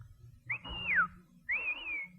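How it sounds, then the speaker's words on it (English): Two sharp, shrill whistle blasts sound one after the other, each sliding in pitch, loud and close against a quiet low background. "That was a taxi whistle."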